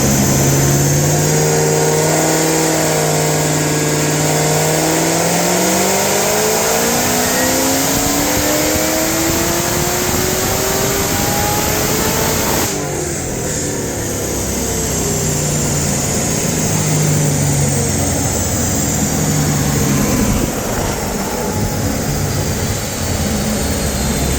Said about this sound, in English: Got her on the dyno, and we're going to get stuck into the tune.